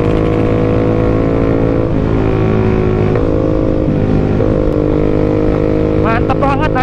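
Motorcycle riding on a road, its engine droning loudly and steadily with slight shifts in pitch, heavy wind rush throughout and a brief voice near the end.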